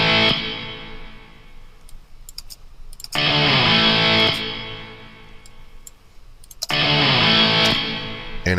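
A guitar drenched in reverb plays bright, crisp, strummed bursts that swell and decay into a washy tail, three loud phrases separated by quieter ringing gaps, with no voices.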